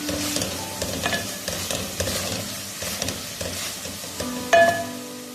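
Masala gravy fries in a pan while a spoon scrapes and stirs it in repeated strokes over a soft sizzle, close up, ending with a sharper metallic clink and no talking.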